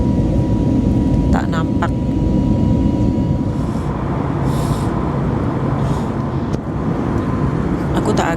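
Steady loud roar of a Royal Brunei airliner cabin in flight, a constant broadband drone filling the whole stretch, with a few brief voices talking over it.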